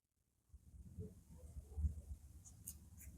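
Chalk or pen writing out a trigonometry step in a maths lesson, a soft, close scratching and tapping that begins after a brief silence and continues faintly.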